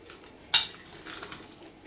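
A spoon stirs warm mushroom pâté seasoned with salt and pepper, one sharp scrape against the pot followed by softer scraping rustles, close and without any voices.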